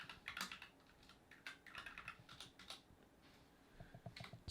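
Keys clicking as a password is typed on a computer keyboard, a quick irregular run of soft, close keystrokes with short pauses, fairly quiet and without talk.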